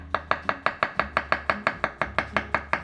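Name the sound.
chopping cucumber on a chopping board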